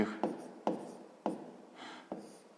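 Pen or pencil strokes scratch out numbers on paper during a sixth-grade math exercise, a few short, soft, close rubbing scrawls with brief taps in between.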